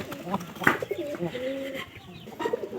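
Pigeons from a home flock, being introduced to pair up, give soft throaty coos close by in short repeated phrases, with a few faint rustles and clicks around them.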